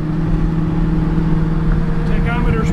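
A 1967 Ford Mustang with a shift kit cruising on a test drive at about 55 mph, its engine a steady low drone with road rumble throughout the short stretch, heard from inside the car.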